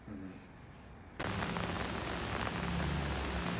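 Steady heavy rain pours down on a building construction site, a dense broadband hiss that starts abruptly after a quiet opening second and then continues loud and unbroken, close to the listener.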